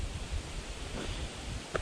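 Steady wind gusting across a humid hiking trail, a broad continuous rush with low rumbling buffets against the microphone, loud and close throughout with no voices.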